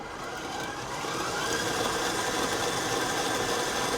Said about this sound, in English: just whisking this so that all the lumps, if you have any, are getting out of there, and that sugar is going to combine with that cream cheese